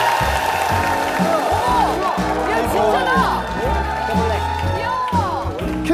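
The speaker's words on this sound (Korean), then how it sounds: "큰 박수로 환영 받겠습니다" Studio audience on a Korean talent show claps and cheers to welcome a performer, a steady wash of applause and whoops under a host talking loudly over it.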